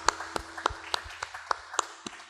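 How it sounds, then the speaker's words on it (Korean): Church congregation clapping together in a slow, even rhythm, about eight sharp claps spaced evenly, moderately close in a reverberant hall. "우리 친구 되시는 주님 앞에 영광의 박수를 드리겠습니다."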